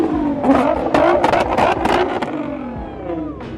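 A Nissan GT-R at a car meet revs hard and up close, with loud engine bursts and crackling pops that fade into a falling drone.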